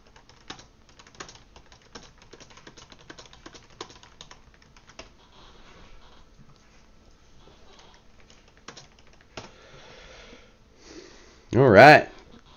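Irregular bursts of clicking keystrokes on a computer keyboard tap away close by, thinning out after a few seconds, followed by a short loud sniff or exhale near the end.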